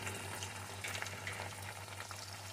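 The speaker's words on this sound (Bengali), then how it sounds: "এখন সমস্ত মশলাটাকে ভালো করে একটু কষিয়ে নেব" Spices such as turmeric, chili powder, salt and a pinch of sugar sauté in a pan for a stuffed pointed gourd dish with prawn filling. They give a faint, steady sizzle with a low hum behind it.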